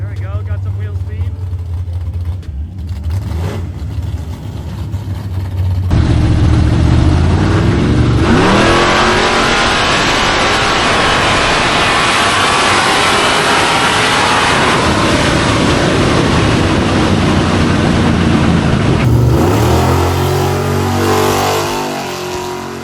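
A big-tire Chevrolet Nova drag car roars as it launches and accelerates hard down the drag strip, a loud sustained engine blast rising in pitch after a rumbling idle, with brief talk near the start.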